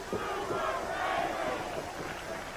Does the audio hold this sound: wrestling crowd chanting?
yes